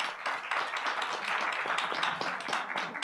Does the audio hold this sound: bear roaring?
no